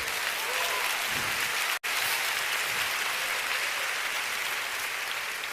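Steady applause from a church congregation at a Sunday celebration, broad and continuous clapping with a brief dropout partway through before the clapping resumes at the same level.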